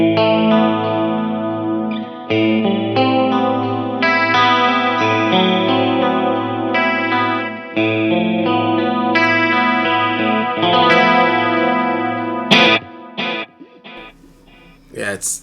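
An electric guitar fitted with Fralin Woodstock pickups and stock Fender V-mods, switched to position 2 and run through an Axe FX, rings out sustained chords with chorus-like shimmer and echo, then trails off into brief sparse notes.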